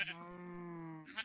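A single sheep bleats in Minecraft, a nasal, wavering baa lasting about a second, clear and close, with faint talking at the edges.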